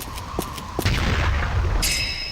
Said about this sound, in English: A fucking grenade?